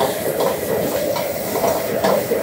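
Steady loud hissing of steam with rushing, sizzling noise and occasional clatter as food is stir-fried in a hot wok in a traditional Chinese restaurant kitchen.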